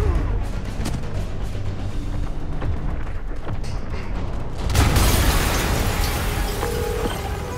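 A loud explosion erupts in Marvel's Spider-Man, a deep boom rising sharply over a steady rumble of game ambience and fading into a long rolling roar.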